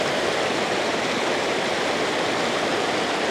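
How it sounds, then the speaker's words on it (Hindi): Mountain stream rushing down beside the road to Naran in Pakistan, a loud, steady broadband roar of tumbling water with no pauses, close by and alone. "ये देखें कितना खूबसूरत नाला ऊपर से बह के आ रहा है"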